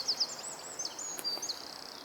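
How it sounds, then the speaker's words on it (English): Outdoor birdsong on a sunny day, several high chirps and whistled notes repeating at close to middle distance over a soft background hiss, no voices. "listening to the birds"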